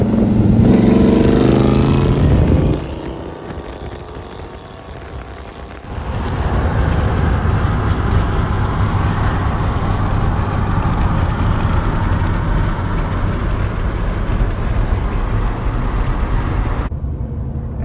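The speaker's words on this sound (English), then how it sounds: "I did a little bit of driving with the Coronet." A Dodge Coronet drives on an open road on a long duct-tape drag road trip, its loud steady engine drone and road roar dip briefly then hold constant with wind noise.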